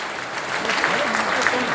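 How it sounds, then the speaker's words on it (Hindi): Loud, steady applause from a large audience at a live event, dense clapping holding throughout with a few voices faintly mixed in. "जबरदस्त तालियां।"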